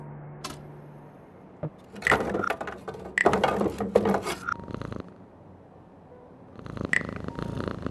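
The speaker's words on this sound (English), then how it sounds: "There's a cat up there by an open window, enjoying the evening air." A cat purrs by an open window in the point-and-click game Frequency Missing, a close, steady, rasping purr that swells into louder, rougher bursts before settling back.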